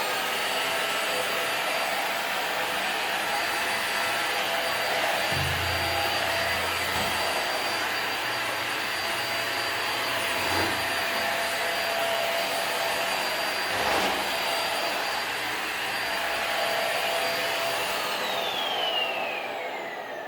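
Black+Decker Versalite AV12 handheld vacuum cleaner running steadily for about twenty seconds with a constant whooshing whine and a few faint bumps as it picks up hair from the floor, then winding down near the end.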